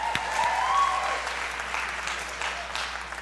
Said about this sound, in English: Everyone give Christy a big round of applause